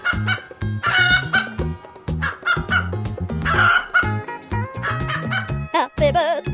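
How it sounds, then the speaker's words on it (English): Cartoon-style chicken sounds in a children's animal painting song: repeated clucks and a rooster-like crow over a loud, busy musical backing, with steady rhythmic beats throughout. "Chicken."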